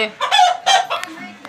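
A nearby rooster gives loud, abrupt clucking calls and a short crowing burst, several quick bursts in a row with no talk.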